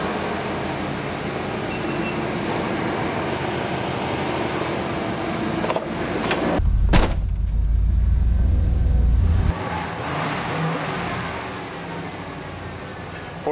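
Old OBS-generation Chevy truck with a holed radiator, its engine idling steadily inside a shop, then a deep low rumble swells for a few seconds as it revs or shifts before settling back to a steady idle nearby.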